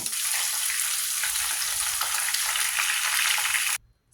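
Sun-dried pork frying in a pan produces a dense, bright, crackling sizzle that holds steady and close, then cuts off abruptly near the end.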